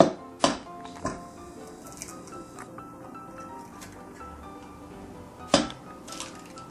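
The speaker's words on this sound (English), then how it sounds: "I'm going to add 2 eggs" Two eggs are cracked into a bowl for a spinach and cheese manicotti filling, giving sharp close clicks and taps against the rim near the start, a second tap soon after, and another distinct crack near the end, with quiet moments between.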